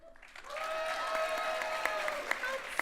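A radio comedy show's studio audience applauds to vote for the horror film Hellraiser, producing steady, full clapping with some cheering voices mixed in and a few sharper individual claps near the end.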